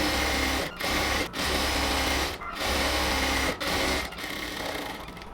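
A sewing machine stitches around the waist of a ladies' cotton pant in loud continuous runs of rapid mechanical whirring, broken by four brief pauses as the fabric is turned.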